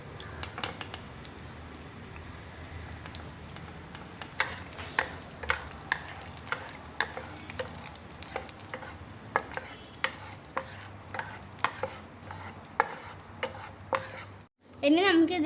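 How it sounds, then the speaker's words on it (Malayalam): Cashew nuts frying in a little hot oil, with steady sizzling and frequent scraping stirs from a spoon in the pan, which stop abruptly near the end before a louder clatter. "എണ്ണ കുറച്ച് ചൂടാകുമ്പോൾ അതിലേക്ക് നമുക്ക് ആദ്യം അണ്ടിപ്പരിപ്പ് ഇട്ട് കൊടുക്കാം. എന്നിട്ട് നമുക്കിതൊന്ന് വാട്ടിയെടുക്കണം."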